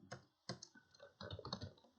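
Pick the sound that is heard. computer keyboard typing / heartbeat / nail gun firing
computer keyboard typing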